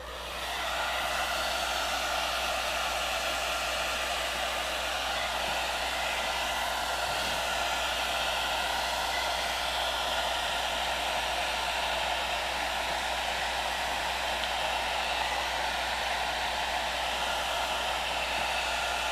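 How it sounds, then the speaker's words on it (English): Hair dryer running on its cool setting, a steady loud whoosh of blowing air that holds evenly from start to finish with no talk. "So what I want to do is just grab my hairdryer,"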